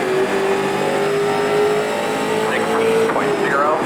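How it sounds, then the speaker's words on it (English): A street stock race car in iRacing, its engine droning steadily throughout with rising and falling pitch as the tires scrub through a corner, a voice talking over it. "I'm really scrubbing the tires, you can hear it."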